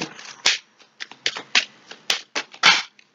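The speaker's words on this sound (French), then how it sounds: "On va recouvrir le 8 de pique et la dame de carreau." Playing cards laid one over another during a French-suited card reading, a series of close, crisp slaps and flicks in an irregular rhythm, with no talk.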